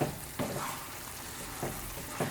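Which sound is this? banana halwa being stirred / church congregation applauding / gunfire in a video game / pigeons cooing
banana halwa being stirred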